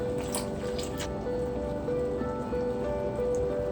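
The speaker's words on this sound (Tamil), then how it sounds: "இது ஒரு கொதி வந்துருச்சு." Leftover dal thinned with water coming to a boil in a pan, soft steady bubbling and popping heard close up, fairly quiet, with no one talking.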